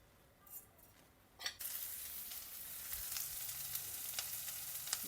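Mustard seeds hit hot sesame oil for a moringa leaf fry, and after a couple of faint knocks a steady, hissing sizzle swells up and holds, dotted with small pops and crackles.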